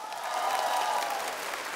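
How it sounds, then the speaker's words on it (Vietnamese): A studio audience at the Vietnam's Got Talent 2016 gala final applauds group 218 with steady, massed clapping, joined by a sustained musical tone underneath. "Quý vị khán giả có thể cho nhóm 218 một tràng vỗ tay thật lớn hơn nữa được không ạ?"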